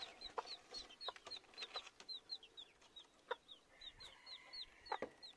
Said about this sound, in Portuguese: então essa galinha aqui é do Marcelo